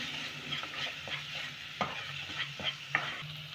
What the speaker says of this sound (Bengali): মিশিয়ে নেব সব মশলাগুলো